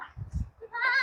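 Goats bleat in a farmyard after overnight rain, a short nearby cry rising out of low rustling and shuffling.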